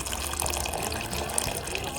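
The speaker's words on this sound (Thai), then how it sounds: "เติมน้ำเข้าไปอีกรอบนะครับเพื่อทำน้ำแกง" Water gushing steadily into a pot to make the broth for a bamboo shoot curry with yanang leaves, a continuous close rushing pour lasting throughout.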